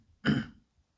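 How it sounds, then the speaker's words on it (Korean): A single short cough or throat-clearing burst from an adult man during a Bible reading session, close and fairly quiet, with silence around it. "기침이 자꾸 나와가지고"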